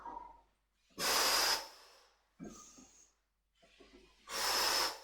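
Heavy breathing during an exercise session, three loud forceful exhales or hissing breaths separated by quieter snorting inhales, close to the mic with no talk.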